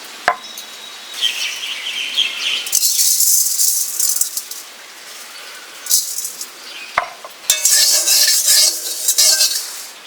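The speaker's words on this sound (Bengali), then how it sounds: "পাঁচফোড়নটা ভেজে নিচ্ছি" Panch phoron spices frying in oil while making jhal achar pickle, heard as bursts of crackling sizzle alongside metallic rattles and utensil clatter against the pan, loud and intermittent.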